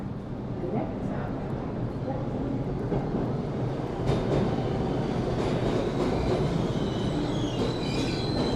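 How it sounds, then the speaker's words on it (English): A Brooklyn-bound 2 express subway train in New York City runs steadily with rumbling wheels, clattering rails and squealing, loud and continuous throughout. "This is a Brooklyn bound 2 express train."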